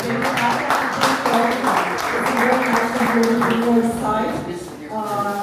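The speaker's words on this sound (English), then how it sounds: "I would like to give one more round of applause." Applause from a seated audience for a football scouting panel in Serbia, a sustained wash of clapping mixed with talk and murmuring voices throughout.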